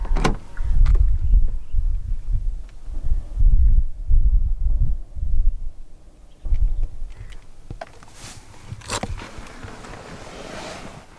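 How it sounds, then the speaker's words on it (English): Locking and unlocking clunks from a 2020 Hyundai Santa Fe 2.2 CRDi AWD Executive, triggered by the door handle button, with several close, sharp mechanical clicks and thumps spread across the clip, then a brief whirring near the end. "And to unlock the car, just press the black button again."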